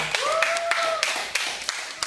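An audience at a class self-introduction talk claps in a short, sparse round of separate claps, fairly close, while a voice cheers over them.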